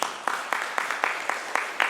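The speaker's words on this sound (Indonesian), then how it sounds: "Tepuk tangan dong." A church congregation claps during a Sunday worship service, sharp rhythmic claps falling in a steady regular beat, even and moderately loud, with no talk over them.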